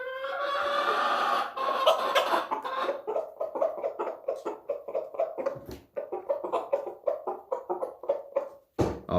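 A pet chicken clucking contentedly while eating sesame seeds, with a longer call at first, then a steady run of rapid, close, clipped clucks.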